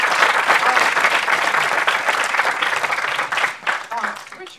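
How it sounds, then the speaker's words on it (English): Sustained audience applause after a film screening Q&A introduction, dense steady clapping filling the room for several seconds before tapering slightly at the end. "Can we have a round of applause?"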